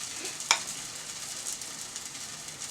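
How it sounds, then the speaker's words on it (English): Codfish fritter batter drops into hot oil with one soft plop, then a steady, bright sizzle of frying continues evenly throughout. "Get a nice helping, a nice heaping of the batter into the scooper, and just place it in the oil."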